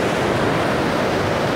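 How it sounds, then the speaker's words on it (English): Water rushing down Cauldron Falls in Yorkshire, a loud, continuous broadband roar close by, with no voices. "and then the water rushing down"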